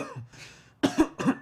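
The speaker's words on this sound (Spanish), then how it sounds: "Puede parecer una simple tos, pero se va haciendo persistente." A person coughs a few times in short, harsh bursts, close and clear, following a softer breathy throat sound.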